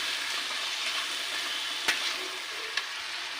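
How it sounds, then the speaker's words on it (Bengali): Tomatoes fry in a pan with a steady close sizzle, punctuated by a couple of soft clacks as they are stirred, with no voices. "এই টমেটোটাকে ভালো করে নাড়তে থাকতে হবে এবং ভালো করে কষাতে হবে আগে"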